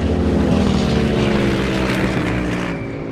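Record-holding Corvette, the world's fastest at over 240 mph, making a drag pass on an airstrip; a loud, sustained engine roar fills the whole stretch, holding steady before easing slightly near the end.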